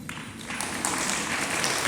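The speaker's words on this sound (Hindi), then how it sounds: "लोगों ने ताली भी बजा दी है" Listeners at a Diwali sermon in Sadalga break into applause, the clapping swelling in after a brief quieter start and holding as a continuous, fairly loud crowd patter.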